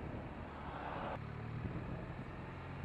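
A 2017 BMW R1200RT motorcycle engine runs as a low, steady rumble with a faint harmonic drone, partly buried under broadband wind and road noise and fairly quiet overall.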